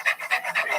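A dog named Lena panting rapidly and close by, a quick steady rhythm of short, breathy huffs, about four cycles in under a second.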